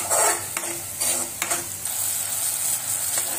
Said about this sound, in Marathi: मसाला सारखा हलवत राहायचा।